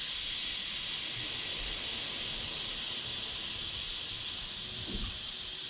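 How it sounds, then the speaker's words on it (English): Air rushes out of a large front tire valve opened with a lever, a steady loud hiss that holds evenly throughout with no talk. "Use the lever to let some air out."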